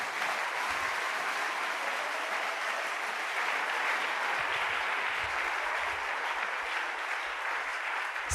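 Church congregation applauding during a French-language sermon, sustained dense clapping from a large crowd that holds steady throughout the clip.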